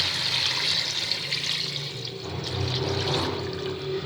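Two to two and a half litres of water pour into a pot of cooking beef trotters for Lahori paya, a loud continuous splashing gush close by, with no talking.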